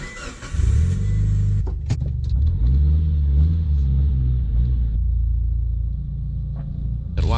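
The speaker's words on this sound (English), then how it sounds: "Let's pull the car in." A Mitsubishi Evo IX MR rumbles close by as it is driven slowly in, engine loud and steady with slight throttle changes, a few clicks and knocks, then dropping to a quieter idle before a final squeak.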